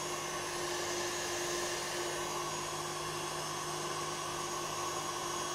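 Continuous whine of an electric mixer whisking egg whites with sugar into meringue for tiramisu, a steady motor hum with a droning tone, moderately loud and unbroken, with no voices.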